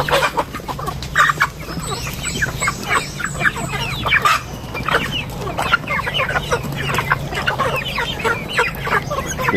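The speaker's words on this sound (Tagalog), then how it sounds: "Papasnack tayo mga tropa ng Madrid Agua. Ito sa mga Rhode Island Red natin." Rhode Island Red chickens cluck and chatter busily while being fed Madre de Agua leaves, many overlapping close clucks with occasional louder squawks over a steady low farmyard hum.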